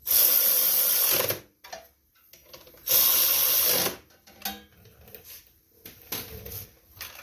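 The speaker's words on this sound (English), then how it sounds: "this is a 12mm socket. We're going to get all these tightened up." A 12mm socket tightens bolts on a 2019 Hustler zero-turn riding mower with a Briggs engine, giving two loud bursts of whirring power-driver rattle separated by quieter clicks and handling noises.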